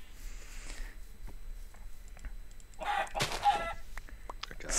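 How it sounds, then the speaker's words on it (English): Chickens in the Minecraft video game cluck and squawk in short bursts amid faint background game sounds, with one louder flurry near the middle. "Die, chicken."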